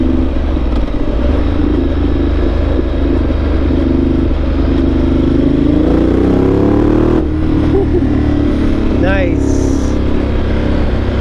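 A Ducati 1200 Multistrada Enduro adventure motorcycle engine drones loud and steady up close, swelling in revs partway through, with a brief spoken word near the end.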